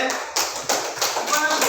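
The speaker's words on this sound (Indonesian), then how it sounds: "tepuk tangan untuk Amelia ya" Applause for Amelia at a teacher training session in Muara Enim: a few people clapping in brief uneven bursts, close by, with a voice speaking over them.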